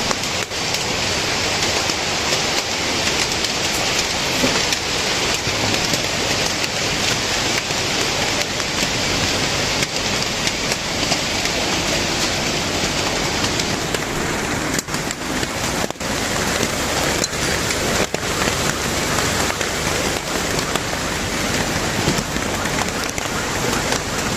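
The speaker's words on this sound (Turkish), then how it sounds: "Çok yağmur." Heavy rain with hail pours down in a dense, unbroken roar that stays loud and steady throughout, with no talk over it.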